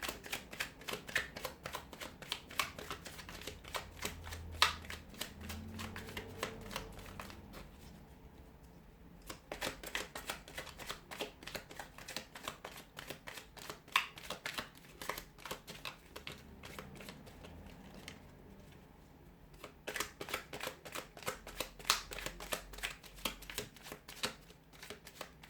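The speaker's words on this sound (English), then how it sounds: "give the cards a shuffle" Tarot cards being shuffled by hand in repeated bursts of rapid riffling flutters, close and crisp, separated by short quiet pauses.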